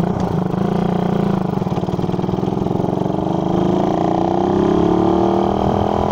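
A Raider 150 or RS 150 motorcycle engine runs close and loud with a steady, throbbing drone that rises slightly near the end. No one talks over it.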